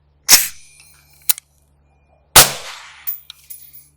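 Two sharp, loud reports from a 5.56 rifle fitted with a Dillon Rifle Company suppressor, each followed by a short metallic clatter, with faint clinks trailing after the second shot.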